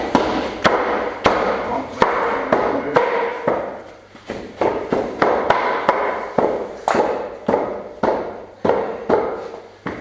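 A wooden kitchen table frame end is bashed into place, a rapid series of sharp, loud thuds and knocks in an uneven rhythm, close by, for about ten seconds.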